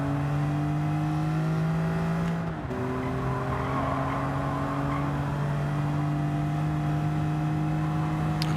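A BMW Z4 road car in Gran Turismo 7 holds a steady, droning engine note at constant revs, dipping briefly as if lifting off the throttle, then resuming a smooth sustained hum with faint tire noise underneath, with no talking.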